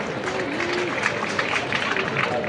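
A crowd at a political rally in India applauds with dense, continuous clapping and cheering of moderate loudness, mixed with a few raised voices.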